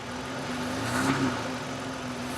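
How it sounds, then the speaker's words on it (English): Chrysler Pacifica engine revving during a power brake test in drive and reverse, producing a moderate, steady mechanical hum that swells briefly in the middle and then settles, heard fairly close with no talk. "put the car in drive and then reverse, put your foot all the way down on the floor and give it gas"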